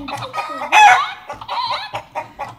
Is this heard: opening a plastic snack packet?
no